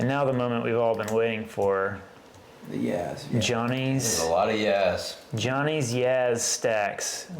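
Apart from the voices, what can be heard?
None of the usual background noises is heard.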